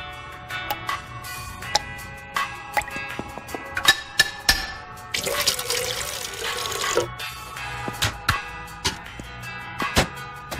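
An automatic drip coffee maker brews in a cartoon kitchen scene, giving off irregular ticks, drips and clicks with a burst of hissing gurgle partway through, fairly quiet and close, with no talk.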